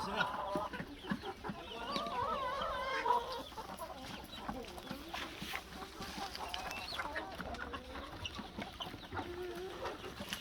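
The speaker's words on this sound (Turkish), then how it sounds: "Sultan tavuğuymuş oğlum bunlar bak." Several Sultan chickens cluck and warble nearby in an ongoing, uneven chatter, with faint farmyard background noise.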